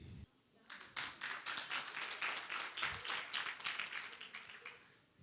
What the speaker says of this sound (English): You are clapping for him, you are clapping for me.